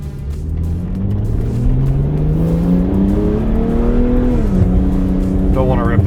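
A car engine idles and then revs in a steady rising drone that climbs gently, dips, and climbs again, loud and close. The engine is cold and not yet warmed up. The sound runs continuously throughout.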